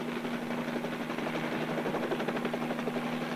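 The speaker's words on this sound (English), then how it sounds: "It's pulling the helicopter down." A helicopter flies with a steady, rapid rotor throb over a constant engine hum. It is loud and close, sounding from inside or near the aircraft, with no talk over it.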